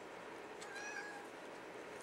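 A Siamese cat gives a single soft, drawn-out meow indoors, faint and brief against a steady background hiss.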